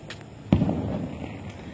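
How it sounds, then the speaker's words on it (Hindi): Fireworks boom during Pakistan Independence Day celebrations in Bahawalpur, one sharp close burst followed by a rumbling tail and a few fainter distant pops, with no voices. "आतिशबाजी हो रही है बहावलपुर में"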